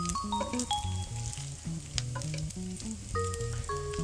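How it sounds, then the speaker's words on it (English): Bacon frying in a pan over lowered heat, a soft continuous sizzle sitting beneath prominent melodic background music. "I turned down the heat because it's starting to smoke and I don't want to burn my bacon."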